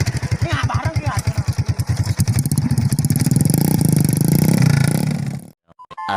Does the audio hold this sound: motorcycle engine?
yes